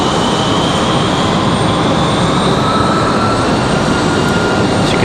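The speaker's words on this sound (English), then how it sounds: "As you can see, our E175 for Republic Airways on the move." A Republic Airways Embraer E175 jet taxiing at Raleigh-Durham International Airport gives a loud, continuous, steady engine roar that never lets up, with no voices.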